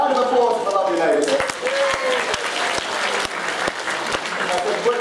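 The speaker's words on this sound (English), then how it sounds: "Round of applause for the lovely lady." A room full of anime convention attendees breaks into a lively round of applause, dense clapping with sharp individual claps standing out near the microphone while voices talk over it.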